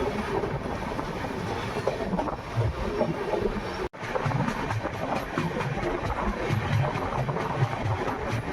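Jaipur Jodhpur High Court SF Express passenger train running through the middle of Degana town, a loud continuous rumble with wheel clatter and wind buffeting, one sharp break near the middle.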